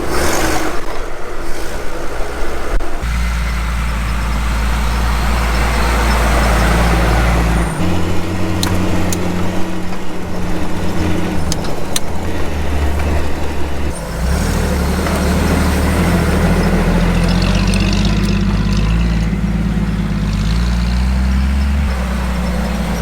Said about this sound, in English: what I do have is an old Jeep, and these tires will actually do the same thing